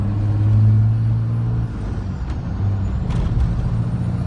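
A 2007 Dodge Ram truck drives along steadily, its engine a loud, constant low rumble with road noise and a brief hiss partway through.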